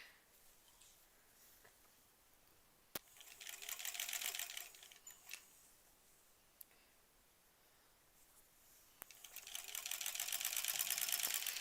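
Sewing machine stitching quilt rows together, two bursts of quick mechanical whirring and clicking separated by quiet gaps and a few sharp clicks, fairly faint and close.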